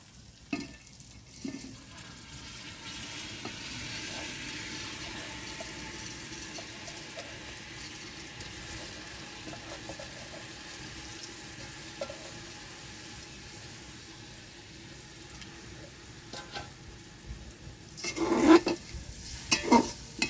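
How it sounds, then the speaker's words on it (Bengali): Drained rice and meat for khichuri being fried and stirred in a pot, giving a steady low sizzle with soft scraping strokes throughout. A few louder clatters of the spoon come near the end. "ভালো করে মিক্স করে নেব। ভালো করে কষিয়ে নেব।"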